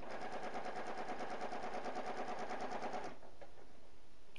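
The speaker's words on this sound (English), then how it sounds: "Close-up of stitching." A sewing machine runs in close-up, stitching two basted layers of near-invisible mesh for a wedding dress robe, with a dense, steady rattle for about three seconds before it stops and leaves only faint room noise.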